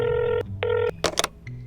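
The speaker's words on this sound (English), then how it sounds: "Phone ringing." A telephone rings in repeated electronic bursts, each about a third of a second long with short gaps between them, loud and close. A couple of sharp clicks and handling noises follow, suggesting the handset being picked up.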